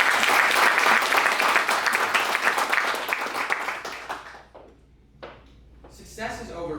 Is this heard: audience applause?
yes